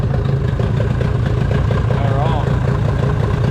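A long-unused pull-start engine runs steadily on its third pull, a continuous loud mid-pitched chugging drone with no pauses, close by and filling the whole stretch.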